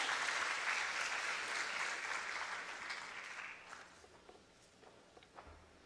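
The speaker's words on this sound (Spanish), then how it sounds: "quisiera que reciban ellos un fuerte aplauso por su participación en esta mesa redonda" Attendees at a national conference on state contracting and arbitration applaud a round-table panel, the clapping loud at first and then thinning and fading away over several seconds into a quieter room.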